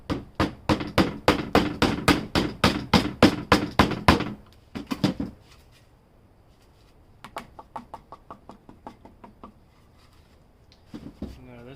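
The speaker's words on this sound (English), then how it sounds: "so I guess we'll start with the wider hammer" A wide hammer strikes foam in a quick, steady run of about fifteen dull knocks, then pauses, followed by a few scattered lighter taps and a later softer burst of strikes; a voice speaks briefly between.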